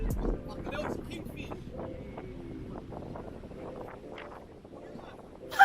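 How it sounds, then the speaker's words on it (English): Strong wind gusts buffet a fishing spot in a steady, rumbling roar that carries on throughout, with faint voices underneath. "It's so windy."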